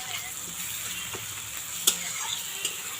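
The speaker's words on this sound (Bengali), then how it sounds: "তো পেঁয়াজটা অনেকটা ভাজা ভাজা হয়ে এসছে, তো আর একটু আমি লাল করব।" Thickly cut onions fry in a pan, browning with a soft, steady sizzle broken by a few sharp pops and clicks.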